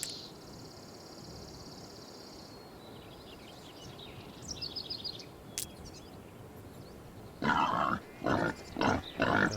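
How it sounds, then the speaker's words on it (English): Wild pig grunting in the Hunting Simulator 2 video game, set in Colorado's Pawnee Meadows, heard as a series of short, loud, rough grunts near the end over a quiet outdoor ambience with faint bird calls. "God, there's another pig over here."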